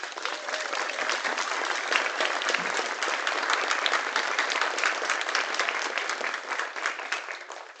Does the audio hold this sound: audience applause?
yes